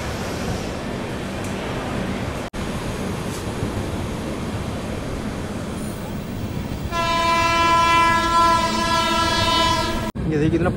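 The Garib Rath express, Bandra to Delhi Sarai Rohilla, runs after leaving Vadodara Junction: steady rumbling wheel and carriage noise, then a loud sustained train horn blares for several seconds near the end.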